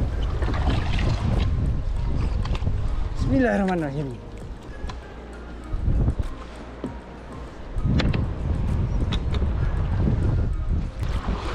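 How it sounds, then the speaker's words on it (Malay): A small boat pounds through rough waves near the shore in strong wind, with broadband wind and water rush throughout, surges at several moments, and someone speaking over the noise. "ombak agak padu."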